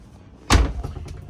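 A luxury six-person motorhome's luggage storage door closes with a single solid slam at close range, followed by a brief rattle and faint thuds as it settles.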